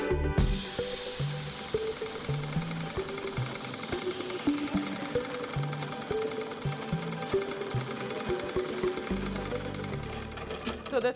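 An industrial sewing machine runs in rapid bursts of stitching while a dress is sewn from old fabrics, loud and close, with a clattering mechanical rhythm that starts and stops repeatedly.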